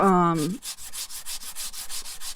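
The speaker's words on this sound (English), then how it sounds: "So just lightly sand the parts that you've painted" Painted wood parts of a small doll bench being lightly sanded, a regular back-and-forth scratching rub repeating about a dozen times after a brief voice at the start.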